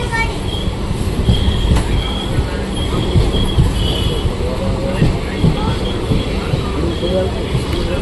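Gandhinagar train standing at a railway platform, a steady rumbling drone with faint squeals and clanks over constant station noise.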